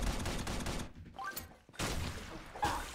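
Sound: gunshots in the video game War of Toys

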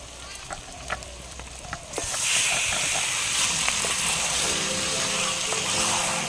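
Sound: chicken frying with onions

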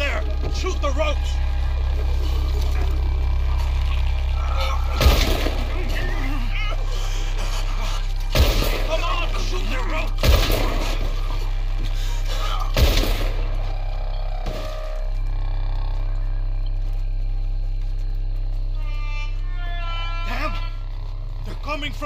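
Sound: gunfire in the video game Red Dead Redemption 2

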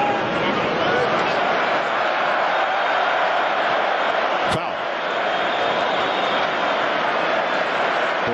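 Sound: stadium crowd cheering for Arsenal

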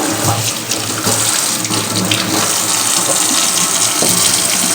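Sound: tap water running while washing dishes

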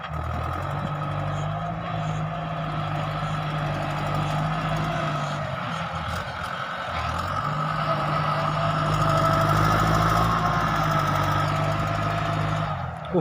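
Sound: truck engine reversing to dump laterite

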